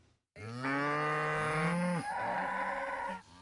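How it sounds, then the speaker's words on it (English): Hungry cows and calves on a farm moo loudly and close by, one long drawn-out bellow sliding into a second overlapping call, with no other voices around. "This mooing makes farmer Scott Nesmith sick to his stomach"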